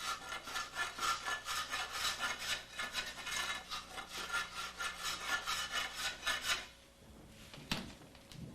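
Rhythmic back-and-forth strokes of a hand saw cutting through a wooden plank during carpentry work, about a dozen quick even strokes that stop abruptly near the end, with no talking.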